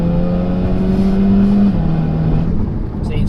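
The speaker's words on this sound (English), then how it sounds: "so the exhaust is completely shut at all times in neutral" Renault Megane RS Trophy with a full exhaust system, revved in neutral with the exhaust valve shut, giving a loud, close engine drone that climbs in pitch, holds, then falls back toward idle.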